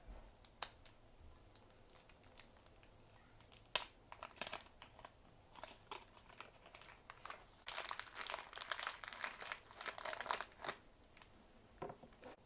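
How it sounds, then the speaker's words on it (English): Plastic wrapping being pulled open from around a Valk 3 Elite speedcube, a series of close, crisp crinkles and crackles that turn denser and louder toward the end. "Let's go ahead and open the plastic."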